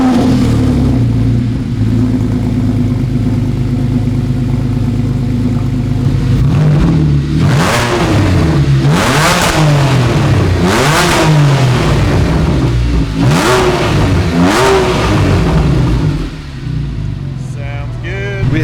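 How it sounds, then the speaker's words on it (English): A 2012-era Porsche 997 Carrera S with a Soul Performance muffler-delete exhaust idles loudly, then is revved in several sharp, rising bursts that drop back between blips, close and alone with no talk. "we're gonna fire it up and check out how the Soul exhaust sounds"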